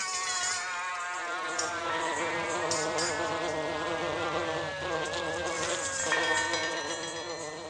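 A bumblebee buzzes steadily in a garden, its drone wavering in pitch as it moves nearby, continuous and fairly close throughout with no talking.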